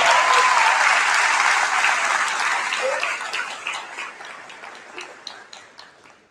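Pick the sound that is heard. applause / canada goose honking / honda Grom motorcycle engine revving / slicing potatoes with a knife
applause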